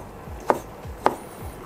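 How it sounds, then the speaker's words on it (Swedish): Two crisp knife chops through parsnip on a cutting board, evenly spaced about half a second apart, close and fairly loud against a quiet kitchen background. "Och så skär jag ner även palsternackan."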